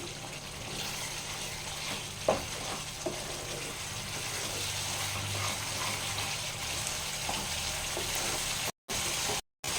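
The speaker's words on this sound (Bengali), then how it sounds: "দেখুন এইভাবে কষতে হবে একটু আমি আঁচটা বাড়িয়ে দিচ্ছি" Jackfruit and potato curry sautéed over raised heat, giving a steady, dense sizzle with a few soft knocks from stirring and brief cut-outs near the end.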